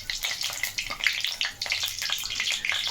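Dried red chilies and two bay leaves sizzling in hot oil, with close, busy crackling and sputtering pops that rise and fall in quick irregular bursts.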